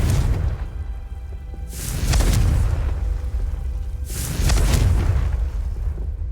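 Spell explosions from Confringo in Hogwarts Legacy hit twice, each a sharp whooshing burst followed by a heavy rumbling boom, spaced a couple of seconds apart over steady game ambience.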